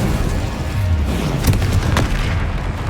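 A Confringo spell explosion in Hogwarts Legacy, a deep rumbling boom with a couple of sharper cracks inside a loud, dense wash of noise that stays heavy for the whole few seconds.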